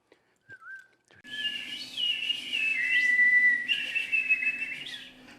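A person whistles in imitation of an eagle's call: a short opening whistle, then a long run of sustained, wavering high tones with rising and falling slides, fairly close and continuous, over a faint low hum.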